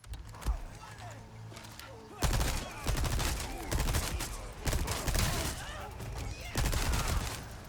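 Sustained machine-gun fire in the video game Resident Evil 4 Separate Ways, dense rapid bursts that follow a quieter opening with a few single shots, loud and close, with someone talking between bursts.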